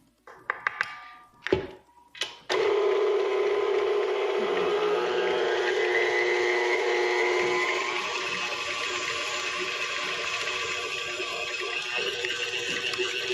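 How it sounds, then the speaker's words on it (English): An electric mixer running on low blends sugar into a batter. A few knocks and clatters come first, then a steady motor whir settles in and hums continuously to the end. "So I'm gonna leave my mixer on low and I add 2 eggs."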